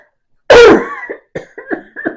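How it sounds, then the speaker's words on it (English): A single person coughs once hard and close, followed by several quieter short coughs and throat-clearing bursts in quick succession, with no talking between them. "Please forgive me if I cough a little bit."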